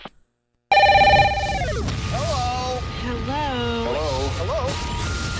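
A loud, close electronic phone ring on a radio call-in show sounds once and then dips in pitch, followed by warbling, melodic tones over a background music bed.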